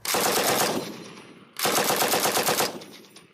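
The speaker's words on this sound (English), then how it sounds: "The police say the first shots were automatic gunfire from the move house" Automatic machine gun fire rips out in two loud, rapid bursts, each about a second long with a short echoing tail, separated by a brief pause.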